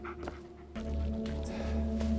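A dog sounds in the Blair Witch video game, with short whimpering yips over a steady low hum of game ambience, moderately loud and close throughout.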